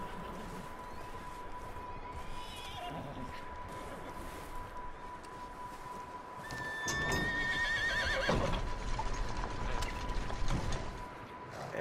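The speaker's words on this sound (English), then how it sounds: "Sounds like a horse in there." A horse whinnies loudly partway through in the video game Red Dead Redemption 2, a shrill rising and falling neigh over a steady tone and soft background noise.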